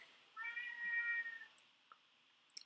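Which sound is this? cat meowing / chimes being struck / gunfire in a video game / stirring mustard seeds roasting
cat meowing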